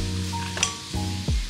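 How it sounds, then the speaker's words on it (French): A spoon stirring hot broth in a pot to dissolve bouillon cubes, a soft steady hiss with a few light clinks and scrapes against the pot, close and brief, no talk. "on mélange pour bien dissoudre les cubes de bouillon."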